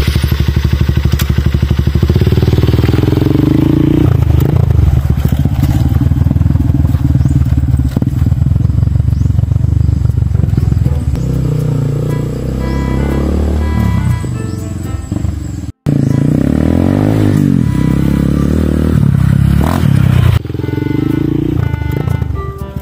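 A motorcycle engine runs steadily while being ridden, a loud continuous drone with clatter and thumps throughout, briefly cutting out near the end before resuming.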